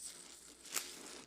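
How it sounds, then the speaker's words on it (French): Packaging torn and crinkled off a homemade frozen ice cream mochi, faint, with a brief sharp rip near the middle amid quiet crackle. "Déballe le mochi."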